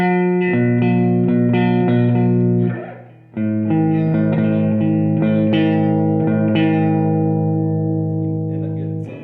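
Guitar chords strummed through a First Act M2A-15 guitar amplifier on a clean tone, sustained ringing chords played in two phrases with a short gap between them, loud and close.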